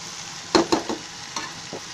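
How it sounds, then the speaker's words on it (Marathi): Red pumpkin pieces fry in oil over a high gas flame, sizzling quietly while a spoon stirs them in a few quick scraping strokes. "आपण गॅस फास्ट करून ते हलवत राहायचं."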